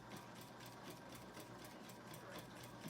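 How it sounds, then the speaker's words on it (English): Home sewing machine running a straight line stitch on a quilt: a steady, continuous mechanical whir with a fast, even pulse, faint and close, with no voices. "this is how I do just a straight line sewing stitch."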